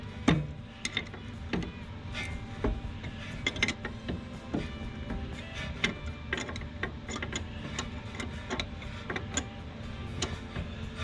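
A top ring nut is turned down on Function/Form Type 2 coilovers for a Honda Prelude, producing irregular close metallic ticks and clicks amid a faint mechanical background.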